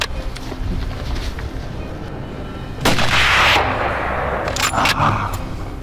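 Gunshots ring out while hunting invasive animals, a loud sharp blast followed by a second report, over a constant outdoor rumble of wind or engine noise.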